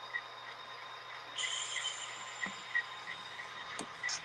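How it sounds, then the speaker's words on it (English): Model railroad locomotives run on a busy club layout at a crossover, giving a steady low hum with faint mechanical whine, scattered short clicks and a brief hiss of simulated air brake near the end, no talk. "It gets really loud down here with all the locomotives."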